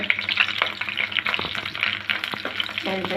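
Black mustard seeds and cumin frying with garlic in a pan for a red amaranth pickle, giving a busy crackling sizzle with clicks and spatula scrapes, moderately loud and close.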